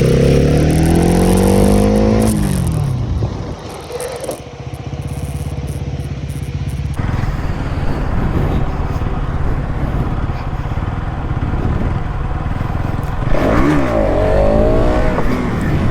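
A Bajaj NS200 motorcycle revs hard during stunt riding in public, engine whining up and dropping in bursts with skidding tire noise between, loud and close, with gaps of rougher rumble.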